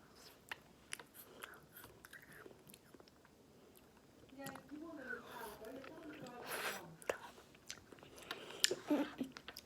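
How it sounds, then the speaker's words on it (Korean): Biting and chewing a crunchy grape-flavored Baskin Robbins Kuromi ice cream stick bar, close and soft, with scattered crisp crunches and wet chewing amid quiet murmurs and whispery vocal sounds. "아삭아삭한데 포도 맛이 나"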